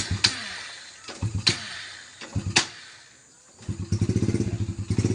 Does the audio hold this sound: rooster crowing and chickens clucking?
no